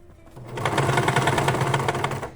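A sewing machine stitches a zipper alongside the presser foot, a close, loud burst of rapid, evenly pulsing needle strokes that starts after a brief pause and runs steadily to the end.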